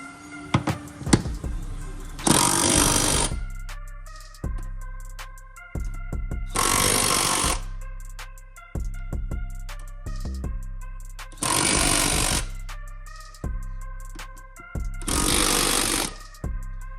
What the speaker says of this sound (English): let's tighten her up with our handy dandy impact gun